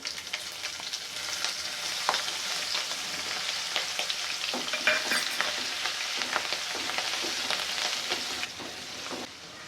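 Ajwain, asafoetida, garlic and green chilies sizzle in hot oil with a steady close crackle and occasional stirring scrapes, no voices.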